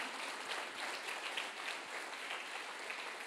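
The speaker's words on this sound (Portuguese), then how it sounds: "Dá um aplauso a Jesus" A church congregation at a Christmas celebration service applauding, a soft, fairly distant wash of clapping that holds steady for a few seconds without speech.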